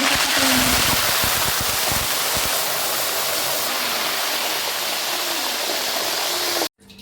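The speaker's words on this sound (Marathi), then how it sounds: "अशाच पद्धतीने आपल्याला काजू मग बदाम आणि मनुका तळून घ्यायचे आहेत" Cashews, almonds and raisins frying in hot oil for poha chivda, a steady loud hiss of sizzling with some bubbling crackle near the start, cutting off abruptly at the end.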